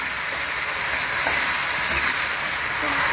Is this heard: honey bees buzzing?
no